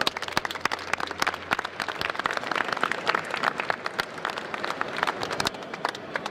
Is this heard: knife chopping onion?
no